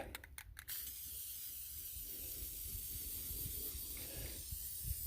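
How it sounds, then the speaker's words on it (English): A steady, continuous hiss of Krylon camouflage brown ultra-flat spray paint from an aerosol can held about a foot away, close and fairly loud, running almost unbroken after a few short bursts at the start. "I've had really good luck with spraying these camouflage paints from about a foot away"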